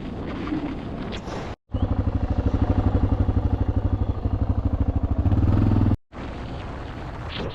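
An off-road motorcycle rumbles along a rough, heavily patched asphalt road through farmland, a close, steady engine drone with rapid rhythmic pulsing from the shaking, cut off abruptly before a short burst of louder wind and engine noise.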